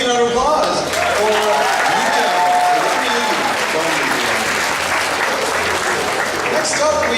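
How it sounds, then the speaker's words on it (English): A convention crowd at a Kraken Con anime costume contest breaks into loud, sustained applause and cheering, a dense wall of clapping mixed with shouts and voices that holds steady throughout. "Big round of applause for"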